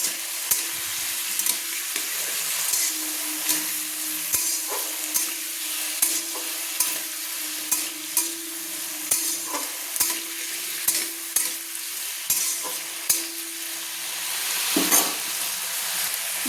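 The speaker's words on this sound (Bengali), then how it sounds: "আলুগুলো নেড়ে নিচ্ছি।" Potatoes frying in oil with turmeric and salt over a medium flame, a continuous bright sizzle punctuated by regular scraping strokes of a spoon stirring close by in the pan.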